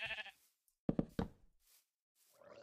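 Sheep bleating in Minecraft, a couple of short wavering bleats in the middle of a quiet stretch, with a brief voice or game noise at the start and end.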